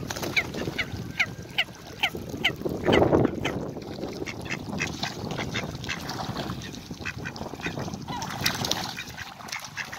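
Ducks quack and honk repeatedly while being fed alongside a crowd of coots in London's Regent's Park, a busy nearby chorus of calls over faint background chatter.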